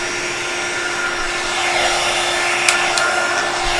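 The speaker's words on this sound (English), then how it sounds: "So let me grab my heat gun, heat tool. I'm gonna have to turn this on" A heat gun used for card making whirs with a steady, loud airflow hiss that runs unbroken, with a couple of faint clicks near the end.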